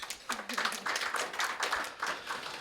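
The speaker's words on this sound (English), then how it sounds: "A round of applause, please." Scattered, modest clapping from a small audience at a hybrid CPD session in Mthatha, distinct individual claps, fairly quiet and brief.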